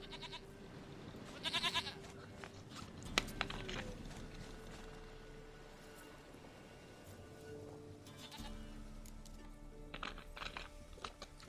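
A goat in the video game The Witcher 3 gives a few short bleats, faint under a low game ambience with scattered keyboard-like clicks and no speech.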